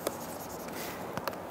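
Chalk or marker strokes on a board during a math lecture, a soft continuous scratching with a few sharper taps, quiet and close.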